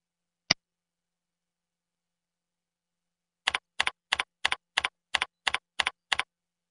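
A password is typed on a computer keyboard: one isolated keystroke, then after a pause a quick, even run of nine close, crisp key presses.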